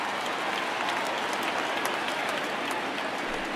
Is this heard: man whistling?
no